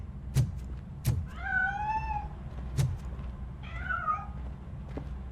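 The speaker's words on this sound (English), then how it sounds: "That cat must be hiding inside." A cat meows twice in the video game RoboCop: Rogue City, rising drawn-out cries separated by a pause, with a few sharp thuds and knocks around them, fairly close, no talk.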